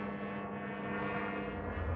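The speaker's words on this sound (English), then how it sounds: "I think it's a seaplane." A steady, droning seaplane engine hum continues throughout at moderate loudness as the plane passes overhead.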